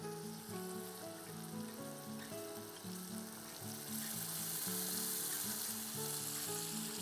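Matar paneer curry sizzles in a hot pan, a soft continuous frying hiss that grows slightly louder partway through, with a faint background hum of music.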